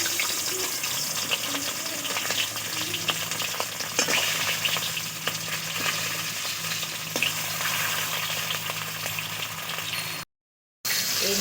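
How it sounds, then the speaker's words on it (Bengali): Fish heads fry in hot oil for a home-cooked bhindi and fish dish, a dense steady sizzle close by with occasional spatters and a faint background hum, then a brief dropout near the end. "মাথাটাও নিয়ে নেব, তাই ভেজে নিচ্ছি।"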